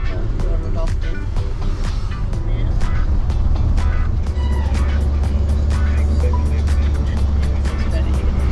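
Steady road traffic near Waipu Cove, New Zealand, heard from inside a moving camper: a continuous low engine and tyre rumble with passing vehicles, fairly loud and unbroken throughout.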